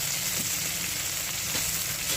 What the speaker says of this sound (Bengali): হ্যাঁ, টমেটোটা এবার ভাজছি